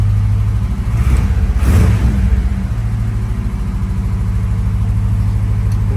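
1955 Chevy with a 700R4 transmission from an '87 Corvette, engine idling and warming up after sitting a week; a loud, steady, close rumble that swells briefly near the start and then settles into an even idle.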